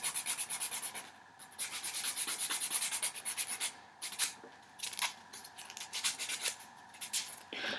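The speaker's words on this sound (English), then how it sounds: "I'm sure I'll be filing more even after I get the decorations on them" A nail file rubs back and forth across black Apres Gel-X nails in quick, steady scratchy strokes, close and fairly soft, with short pauses between sets and no talking.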